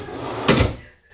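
A single drawer slides shut on KV ball bearing drawer slides: one short, close thud with a brief rolling swish, then quiet.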